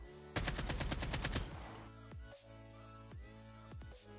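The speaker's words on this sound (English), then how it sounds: "we'll see the recoil pattern of my AK-47 without the stabilizer mod" AK-47 automatic fire without a stabilizer mod in the Call of Duty Mobile video game, a rapid burst of about a dozen loud shots lasting roughly a second, then echoing tail and scattered quieter game sounds.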